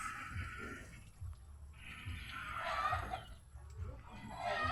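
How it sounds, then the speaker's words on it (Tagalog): Several chickens cluck and squawk noisily nearby on a pineapple farm in irregular bursts, with some louder calls rising over the flock. "Ingay ng mga manok guys"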